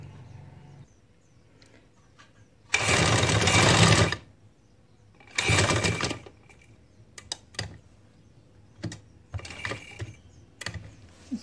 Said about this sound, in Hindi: सिलाई लगाएंगे।